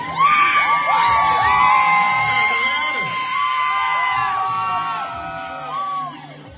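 A loud crowd of people screams, whoops and cheers in a sustained, overlapping roar at a live butchery competition event, with a brief dip midway before the shouting swells again and then fades.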